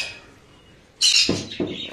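Pet birds in an indoor bird room, a few short, sharp chirps in quick succession after a quiet start, close and fairly loud.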